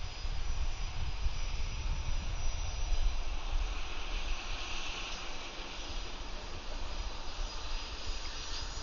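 A jet airliner takes off from Atlanta airport, its engine roar a steady, distant rumble that holds at an even level throughout, with no talking.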